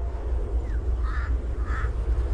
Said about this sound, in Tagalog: Daming uwak mga kapangil.